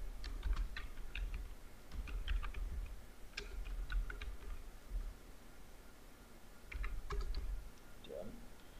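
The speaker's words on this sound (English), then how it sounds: "Now type here your comment." Typing a comment into a Google Spreadsheets cell on a computer keyboard, with soft close key taps in two short clusters and a pause between them over faint background noise, with no talking.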